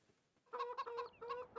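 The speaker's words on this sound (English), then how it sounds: "now we have a bunch of chickens" Farmyard chickens in the Farming Simulator video game cluck in a quick run of bursts after a brief quiet start, a flock of about 25 birds sounding near and fairly clear with no talk over them.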